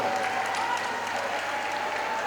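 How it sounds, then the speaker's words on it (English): A boxing crowd applauds both fighters after a bout, a steady dense wash of clapping and crowd noise from a distance, without a break. "give them a massive round of applause"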